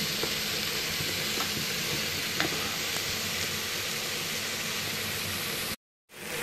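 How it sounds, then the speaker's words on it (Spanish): Wheat soup ingredients sizzle loudly in oil as they are stirred, a broad steady hiss with faint scraping, close up, ending abruptly in silence near the end; no one speaks. "ya están todos los ingredientes dentro del aceite y vamos a removerlo"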